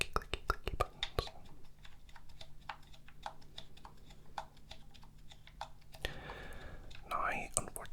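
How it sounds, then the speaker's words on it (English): Small clicky buttons on a Nintendo Game Boy pressed in quick, irregular taps, close and quiet, with soft whispering and faint rustling underneath. "this is the Nintendo Game Boy. With nice little clicky buttons"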